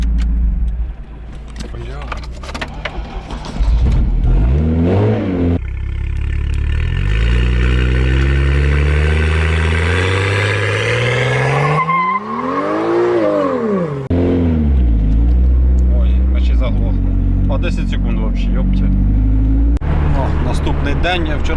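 A GAZelle van with a burnt-out muffler drives toward Cherkasy, its loud, rough engine drone rising and falling through the run while people talk over it.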